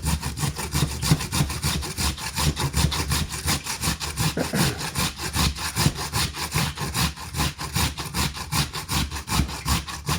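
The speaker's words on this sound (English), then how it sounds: "And we're gonna grate them up." Russet potatoes being grated for hash browns produce a steady, rhythmic rasping scrape, with rapid strokes repeating close up throughout.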